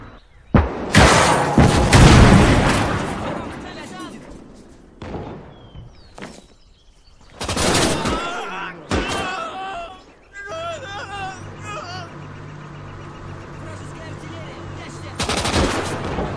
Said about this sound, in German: Слышу пулемет!